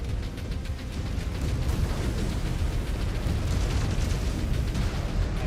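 Weapon fire and explosions rumble continuously from a MechWarrior Clans battle in the Smoke Jaguar campaign, where a mech fires at an enemy mech's legs. Dense, loud blasts and booms overlap without pause.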